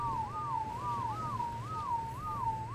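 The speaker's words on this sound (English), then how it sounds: "This whistling is going to happen the whole time." Steady, repeating whistle from the ARK video game during dinosaur breeding, rising and falling in a regular wavering pattern several times over a low constant hum, with no talking.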